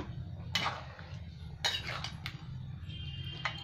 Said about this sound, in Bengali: এবার একটু নেড়ে দিচ্ছি